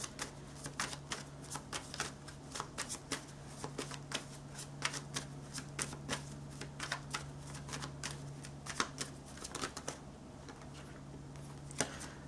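Tarot cards being shuffled for a pick-a-card reading give a steady run of crisp riffling snaps and flicks, close and soft, continuing alone for several seconds over a faint low hum.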